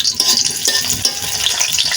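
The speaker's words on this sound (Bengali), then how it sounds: "কড়াইয়ের মধ্যে তেল গরম করে বড় একটা রসুন, কাঁচা পেঁয়াজ, কাঁচামরিচ দেখো ভেজে নিচ্ছি" Garlic, onion and green chili frying in hot oil in a wok, a steady close sizzle with light stirring scrapes throughout.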